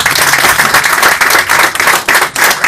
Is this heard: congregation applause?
yes